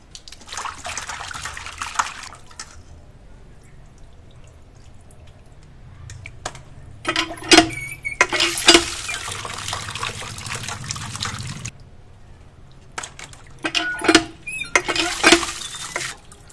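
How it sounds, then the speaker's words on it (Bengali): Pieces of desi chicken are washed by hand in water, with bursts of splashing, sloshing and dripping between quieter stretches of faint trickling, close and with no talk. "মাংসগুলো পিস পিস করে কেটে নিয়েছি। এবার ধুয়ে নিব। মাংসগুলোকে ধুয়ে নিব।"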